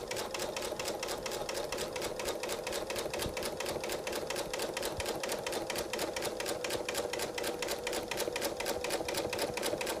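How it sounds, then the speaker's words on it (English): A sewing machine stitches through quilt fabric for a jelly roll quilt, a fast, steady mechanical chatter of needle strokes running continuously at moderate volume with no voices. "Making sure the fabric is as taut as possible when it sews through."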